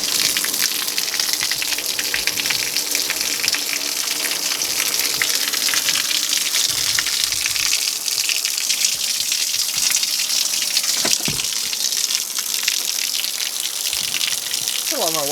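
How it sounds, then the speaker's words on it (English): Water gushes continuously from a hole punched in a tarp, a loud, steady, broadband rushing splash that never lets up, with a brief voice-like squeal near the end. "let's punch a hole in it where we want the water to come out"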